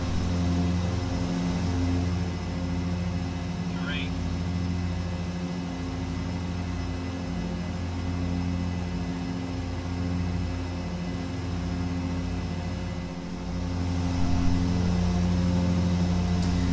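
Inside a Twin Otter aircraft descending toward Lukla at high altitude, the twin engines produce a constant, even cabin drone with a steady low hum and tonal whine throughout, slightly louder near the end.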